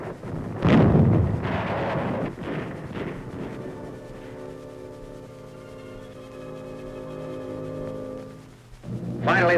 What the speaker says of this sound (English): A little of the heat treatment and a few pounds of steel from fragmentation grenades does the trick.